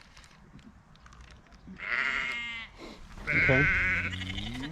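Sheep on a farm give two drawn-out, wavering bleats close by over quiet background noise, and a person says a short word.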